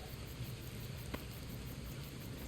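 Steady rain in the Gotham Knights video game, heard as a constant, even hiss of falling water with no pauses and one faint brief tick partway through, and no voices over it.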